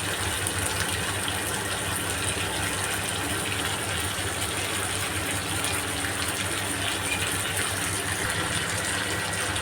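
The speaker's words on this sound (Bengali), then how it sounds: "জল দিয়ে দেবো জল দিয়ে দিলাম" Water pours steadily into a pan of chicken curry being cooked down in oil, a continuous loud gush with no pauses.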